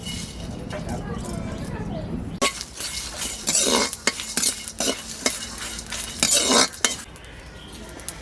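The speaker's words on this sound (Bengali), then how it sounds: "শুকনো খোলায় গোটা গরম মশলা ভেজে নেব।" Whole garam masala dry-roasts in a hot pan for a duck curry, starting as a dull scraping rustle and then turning into loud, irregular spoon strokes and metallic clinks against the pan, with a voice also audible.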